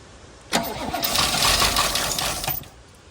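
A V8 engine in a Toyota Hilux, abandoned and left sitting for a decade, cranks and catches, then runs rough and rattly for about two seconds, loud and close, with a voice nearby.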